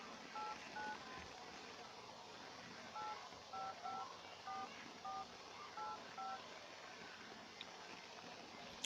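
Series of short electronic telephone dialing tones from a free calling app on a phone, beeps spaced in small groups, clear but modest in level over a quiet background.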